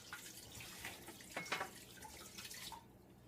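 Water poured from a container into a cooking pot to cover a beef tongue, a continuous splashing trickle with brief louder gushes that tapers off near the end, close and fairly quiet.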